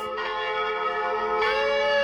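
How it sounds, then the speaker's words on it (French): A small bell rings with clear, bright ringing tones, struck twice: a first ring that sustains and fades, then a second stronger strike that rings on loud and near, alone with no voices. "Et sans oublier la petite cloche."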